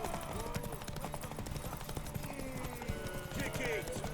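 Horse hooves clip-clop steadily in the video game The Witcher 3, mixed with a busy game soundscape and voices talking over them.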